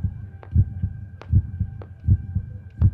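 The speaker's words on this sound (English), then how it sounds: "This is the sound of a thousand hearts beating under one roof," Steady heartbeat sound effect for a fireworks championship show at Eastnor Castle, deep paired thumps repeating about every three quarters of a second with faint clicks above, close and alone with no voices.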